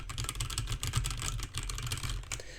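Rapid, continuous key presses on a computer keyboard picked up by a Razer Seiren Mini USB microphone, a steady close clatter of typing with no voices.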